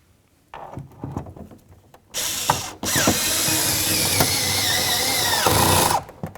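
Ratchet or power driver tightening a mounting bolt on a 1994-2004 Chevy S-10 exterior door handle: a brief clicking start, then a loud, sustained whirring ratchet run of about three seconds that stops abruptly, with no talk.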